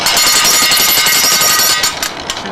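An Oz hammer powered driver rapidly pounds a spacer-fitted post into hard ground, producing a loud, continuous hammering rattle at close range that eases slightly near the end.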